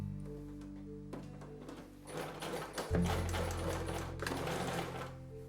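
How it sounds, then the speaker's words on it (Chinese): A sewing machine stitches short seams to hold pleats in canvas bag fabric, running in a steady close whir that shifts speed and grows louder partway through, with no talking. "那这个线段车呢车1厘米。"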